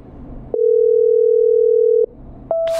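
A telephone call being patched through in the game Killer Frequency gives a steady dial-like tone lasting about a second and a half, then a brief gap and a second higher tone, with no voices.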